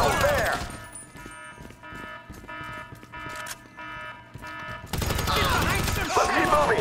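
Rapid bursts of automatic gunfire in the Grand Theft Auto 5 video game, loud and dense, with repeating alarm-like tones between volleys and heavier firing at the start and end.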